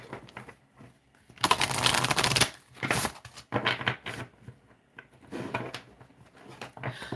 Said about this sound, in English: I like to shuffle the bigger deck side by side like this